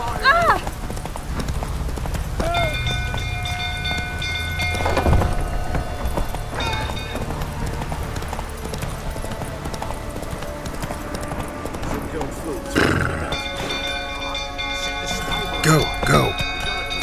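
Horse Roach galloping in The Witcher 3, steady hoofbeats running throughout under game music and ambient effects, with occasional louder impacts and voices.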